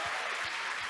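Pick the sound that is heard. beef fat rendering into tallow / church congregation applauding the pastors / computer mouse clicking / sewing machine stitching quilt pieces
church congregation applauding the pastors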